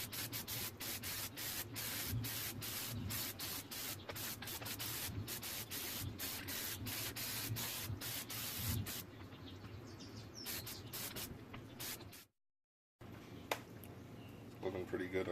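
Spray can of Plasti Dip coating car wheels, repeated hissing bursts in a steady rhythm, close and fairly loud, with a short gap of silence near the end and birds chirping faintly.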